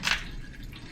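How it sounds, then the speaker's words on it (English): A single drip of fluid falls from the drain plug of a Ford 1900 tractor loader during hydraulic work, a short wet plink followed by faint residual noise. "This one is now just to a drip."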